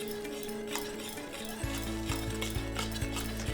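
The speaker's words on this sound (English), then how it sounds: "and just keep whisking till we have a nice glossy custard" Whisk clicks and scrapes steadily in a pot of pastry cream custard with butter added, a brisk regular rhythm of metal strokes close by.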